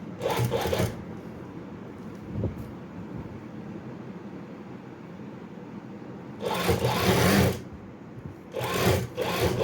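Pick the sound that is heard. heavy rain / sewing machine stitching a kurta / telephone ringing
sewing machine stitching a kurta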